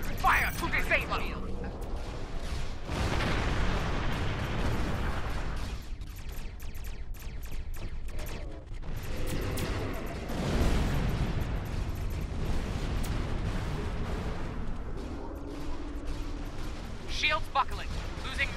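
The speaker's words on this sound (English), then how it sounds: "All ships, fire to disable!" Starship weapons fire in Star Trek Online, rumbling bursts and explosive blasts rolling continuously under dense combat noise, with voices speaking over the barrage.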